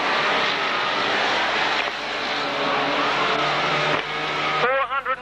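Racing cars roar past a pit turn at a Braintree Auto Club van meeting in 1991, a dense, continuous engine drone that holds steady and then breaks into rising and falling revs near the end.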